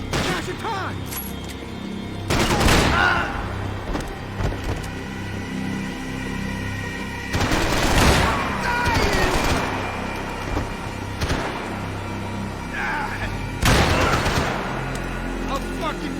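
Gunfire bursts from the video game Max Payne 3 in a heavy firefight, loud broadband blasts recurring every few seconds over a steady rumbling background, with shouted voices mixed in.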